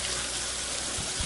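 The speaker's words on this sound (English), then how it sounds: "We always begin by washing our hands." Water running from a tap as hands are washed with soap, a steady broadband splash with a few brief gurgling shifts near the end, fairly close and alone.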